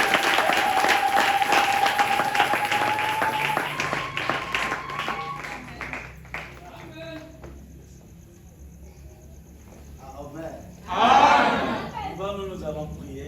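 A church congregation bursts into applause and cheers near the end, a loud swell of clapping and voices rising after a sung or spoken stretch, with talk and music before it.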